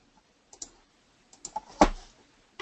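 A few sparse clicks from a computer keyboard while entering a shortcut, soft isolated taps followed by one sharper, louder key press, close with quiet gaps between.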